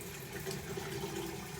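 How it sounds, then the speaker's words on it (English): Tap water running at medium flow into a sink, a steady soft splashing rush with no voices over it. "hopefully you can hear me talking with the water on, but I use like medium water"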